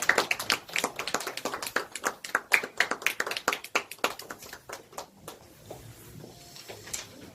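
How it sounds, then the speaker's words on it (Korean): Church congregation clapping during Sunday service announcements as members come forward, a sparse group of distinct close claps in an uneven rhythm that thins out and softens over several seconds. "네, 박수 해주세요."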